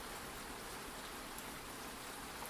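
Steady rain falls through a wet forest onto leaves, a dense, even hiss with soft pattering that holds constant and fairly quiet throughout, with no voices.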